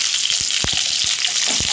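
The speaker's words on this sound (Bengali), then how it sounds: "আলুগুলো ভেজে নেব।" Cut potatoes frying in oil in a home kitchen, a continuous close hiss of sizzling with a few sharp scraping and tapping stirs scattered through it.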